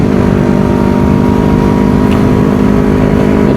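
A Kawasaki Ninja 250 motorcycle engine drones steadily while riding, a loud continuous hum with a throaty low rumble and steady harmonics throughout, no voices over it.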